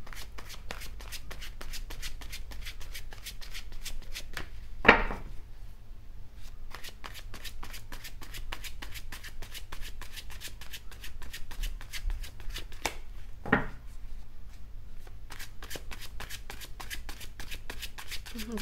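Lenormand cards being shuffled for a reading, a long run of fast, crisp flicking riffles with two louder riffle bursts, close and continuous.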